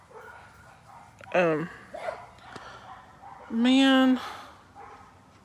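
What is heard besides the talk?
dogs barking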